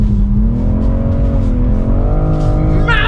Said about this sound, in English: Massive drifts